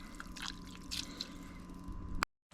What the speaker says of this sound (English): I'm just like stirring it, make sure it doesn't get all clumped up together